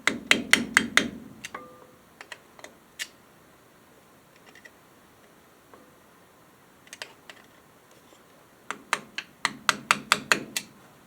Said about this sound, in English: You just bend the little tabs out of the way.